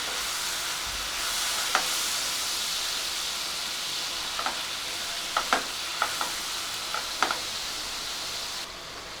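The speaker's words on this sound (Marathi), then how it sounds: "आता ते परतून घेऊया ते कितपत परतायचं ते यातनं तेल फुटेपर्यंत आपल्याला हा मसाला परतून घ्यायचा" Spice masala for chana chaat sautés in oil with a steady close sizzle, broken by a few brief scrapes and taps of stirring.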